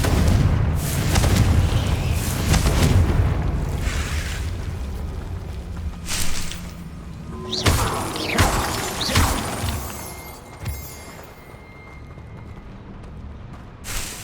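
Confringo fire-spell blasts from the game Hogwarts Legacy, loud booming bursts with shattering crackle arriving in a cluster early on, then several more spaced explosions that fade out.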